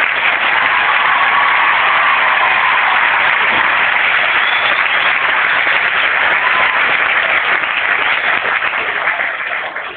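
A crowd applauds a bishop at a French gathering, with dense, steady clapping that stays loud for the whole stretch and tapers only slightly at the end, with no talk over it.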